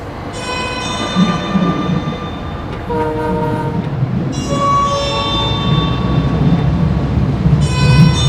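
A Heathrow Express train runs toward Paddington Station with a loud, steady rumble, and sustained tonal whines or horn-like notes rise and fade over it throughout.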